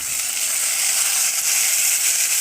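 Tomatoes sautéing in a pan with chilies for a creamy cabbage sodhi, a bright even sizzle holding steady and close the whole time with no talk.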